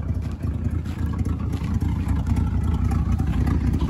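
A Chevrolet K5 Blazer with a slight exhaust leak runs just after starting, a loud, close, low rumbling idle that churns steadily with small uneven pulses.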